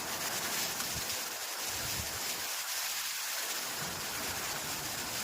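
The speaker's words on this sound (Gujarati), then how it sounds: "કડાકા ભડાકા સાથે વાવાઝોડા સાથે વરસાદ જોરદાર ચાલુ થઈ ગયો છે" Heavy rain pours down in a dense, steady roar during a thunderstorm in Chalala, with a low rumble of thunder swelling underneath.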